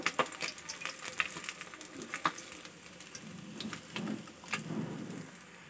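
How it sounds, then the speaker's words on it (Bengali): Pabda fish fry in hot oil with a close, constant sizzle, sharp popping crackles scattered throughout and a few soft scraping stirs, with no talk. "মাছগুলো সুন্দর করে ভাজা হয়ে গেছে"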